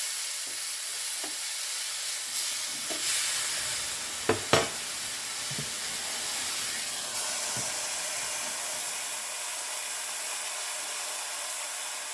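Meat frying in a pan on the stove gives off a steady, moderately loud sizzle and hiss, with a few brief clanks and stirring sounds near the start. No one speaks.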